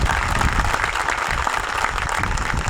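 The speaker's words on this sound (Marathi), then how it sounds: "म्हणून एकदा जोरदार टाळ्या होत्या बाबासाहेब आंबेडकरांच्या विचारांसाठी" Steady, dense applause from an audience at an Ambedkar Jayanti celebration in Jat, loud and continuous throughout with no talk over it.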